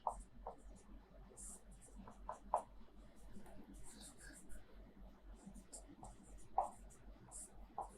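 Marker or chalk writing on a board during a Hindi-medium physics lecture on wave optics: faint, intermittent scratchy strokes in short bursts, quiet and close, with a speaking voice mixed in.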